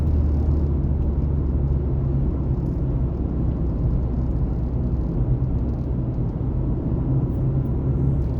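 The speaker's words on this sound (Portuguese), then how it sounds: "tô de quarta marcha, 80 por hora, vou encaixar a quinta aqui" Ford Focus fitted with twin throttle bodies cruising on the street at 80 km/h while shifting into fifth gear, a continuous loud engine drone and road rumble with steady low tones and no pauses.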